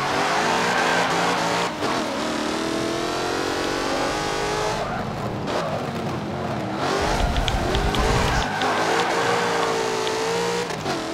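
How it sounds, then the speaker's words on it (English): Race car engines roar and rev continuously in Forza Motorsport 7 at Brands Hatch, with tire squeals and skidding breaking through as the cars corner; loud and close throughout. "Hopefully, you can hear the cars this time."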